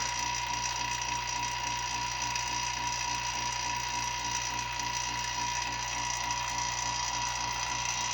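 A laboratory vacuum pump, used while flushing with argon, gives a steady mechanical drone with a rapid, regular pulsing chug running unbroken throughout, humming nearby with no voices.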